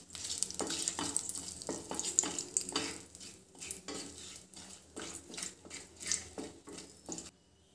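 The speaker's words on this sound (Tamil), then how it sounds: "பட்டை, கிராம்பு, ஏலக்காய் எல்லாமே பொரிஞ்சதுக்கப்புறமா" Cinnamon, cardamom, cloves, stone flower and a bay leaf fry in a little hot oil for an egg gravy. Soft sizzling comes with repeated rhythmic bursts of a spoon stirring and scraping the pan, then the sound stops.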